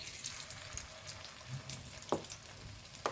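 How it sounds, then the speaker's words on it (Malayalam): Masala-coated okra fries in hot coconut oil with a quiet, steady sizzle and crackle, and a few sharper pops and spatters stand out near the end. "ഞാൻ ഇതിലേക്ക് ഇനി മസാല തേച്ച് വെച്ച വെണ്ടയ്ക്ക് ഇട്ട് കൊടുക്കണ്ടേ"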